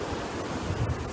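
Ocean waves at a beach wash in as a steady, broad surf roar with faint wind, no voices over the short stretch.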